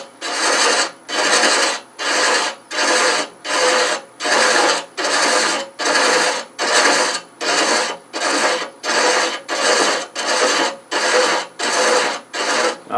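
Hand thread chasing on a running lathe, a rhythmic rasping scrape repeating about every 0.7 seconds in steady, even strokes, loud and close with no talking.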